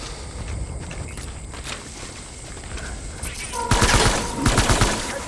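Gunfire in the video game Death Stranding Director's Cut comes as rapid bursts and shots over footsteps, growing louder and denser toward the end.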